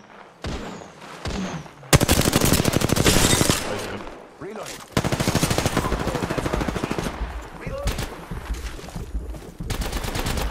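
Rapid automatic gunfire in a video game, loud close bursts of machine-gun fire broken by short pauses, with faint voice-like sounds in the gaps.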